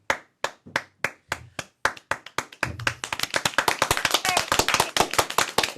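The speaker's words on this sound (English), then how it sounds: "Let's give Michelle a clap." Audience clapping: slow, separate single claps at first, then a dense, loud burst of steady applause that carries through to the end.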